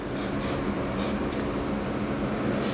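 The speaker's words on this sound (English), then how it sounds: "we spray white onto our little tool." Short hissing bursts from a spray paint can lay white paint onto a small tool for painted planets, four quick puffs standing out over a steady background rumble.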